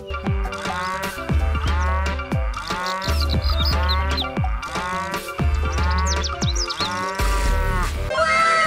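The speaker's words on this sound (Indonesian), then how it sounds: "Wadidaw, ternyata seekor sapi." A toy cow gives repeated mooing calls over a steady background of music, loud and close, with several moos in a row spaced through the clip.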